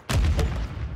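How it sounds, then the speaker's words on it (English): A grenade blast in an online shooter game, one close heavy boom with a rumbling low tail that fades over about a second, no talk over it. "Yeah, I'm throwing nade."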